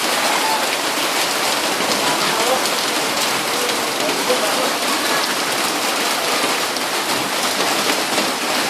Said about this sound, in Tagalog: First ligo ni Abby sa ulan.